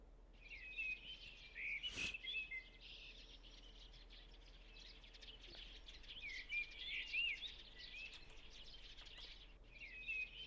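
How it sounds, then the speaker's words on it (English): Morning birdsong in the visual novel Higurashi When They Cry: faint, bright chirps and tweets recur in short bursts across the scene over a low, steady background hum, with no talking. "The birds who had just awoken began to sing."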